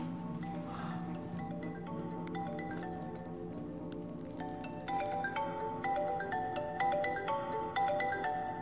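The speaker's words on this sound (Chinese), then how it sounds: "我接个电话。" A mobile phone ringtone plays a repeating melodic tune in a hotel room, moderately loud and close, with faint clinks in the background and no talk.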